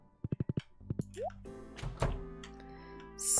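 Crops are watered in Stardew Valley, a quick series of five short plopping splashes followed by game chimes and soft tones, with no talk.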